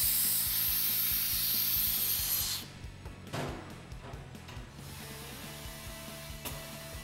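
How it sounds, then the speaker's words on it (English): A TPMS valve core torque tool on a tire valve during tire mounting and inflation: a loud burst of air hiss at first, then a run of small, evenly spaced ratchet clicks, close up and with no talking. "you'll actually hear it ratchet when it's tight"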